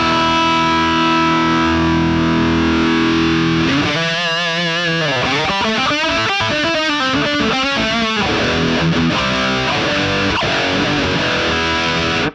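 Electric guitar played through the Rat-style distortion pedal module in Guitar Rig 6, with loud, heavily saturated chords and riffs that ring and sustain continuously throughout.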